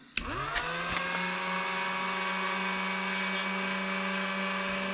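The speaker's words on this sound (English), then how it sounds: "chuck it up in the old Dremel here, and I can turn it on." A Dremel rotary tool used in ship model building switches on and quickly spins up to a steady high-pitched whine, holding a constant, moderately loud buzzing tone close by with no speech.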